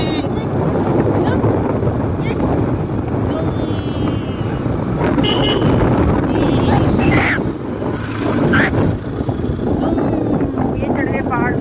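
Motorbike riding a winding mountain road through the Nainital hills, a steady engine drone mixed with heavy wind rush on the microphone and occasional voices heard faintly.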